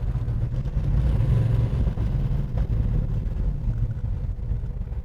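A 1969 Ford Mustang Boss with a Kaase engine idles with a loud, deep rumble while the throttle is touched lightly, giving small swells in the steady low growl, close by.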